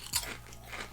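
A single sharp crunchy bite into thick, hard KFC vegan crisps, followed by a brief quieter crunch of chewing, close up with no speech.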